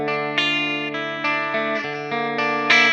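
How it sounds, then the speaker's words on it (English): An electric guitar plays a series of sustained, distorted chords through a pedal setup with added reverb, each strum ringing into the next with a smooth, washed-out tail. "We're going to add some reverb."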